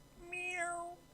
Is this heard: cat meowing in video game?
yes